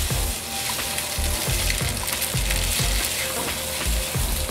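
Curry poured over spaghetti in a hot frying pan gives a loud, close, continuous sizzle, broken by regular scraping strokes of a utensil against the pan.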